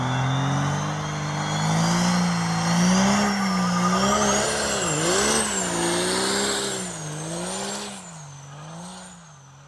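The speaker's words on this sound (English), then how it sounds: "do a burnout." A big diesel pickup with a 7.3 engine roars at sustained high revs during a burnout, its pitch wavering up and down while tires squeal steadily, then the roar eases off near the end.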